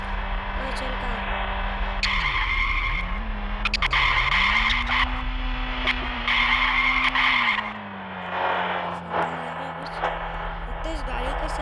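In the video game Ice Scream, a car skids out of control with loud, drawn-out tire squeals over a droning engine that rises and falls, while someone talks over it.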